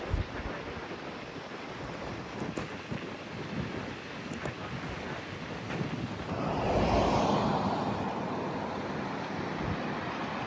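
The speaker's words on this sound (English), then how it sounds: "Woo, windy." Wind sweeps through the Clark's Fork River canyon in Wyoming, a steady broadband roar with buffeting against the microphone that swells louder toward the end.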